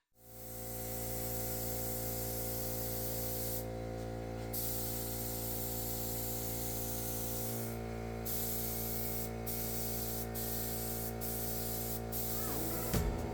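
Spray gun laying paint onto a mid-century furniture piece, a continuous dense hiss starting abruptly and holding steady for over ten seconds, with a few brief interruptions, close and without talk.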